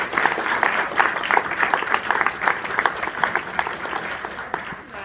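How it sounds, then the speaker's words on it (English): Crowd applauding tournament volunteers at a gaming event, loud sustained clapping from many hands, close and continuous throughout. "I'm sure we'll give them a big round of applause."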